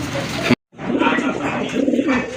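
A pair of king pigeons coos close by in low, throaty, repeated calls. The sound is broken by a brief silent gap, then the cooing resumes steadily.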